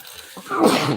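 A single sneeze bursting out near the mic during a home cooking session of brisket and pico de gallo, preceded by a soft intake of breath and ending in a loud, broad blast.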